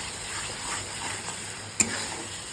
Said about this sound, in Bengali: এইভাবে মশলাটাকে একটু কষিয়ে নেব।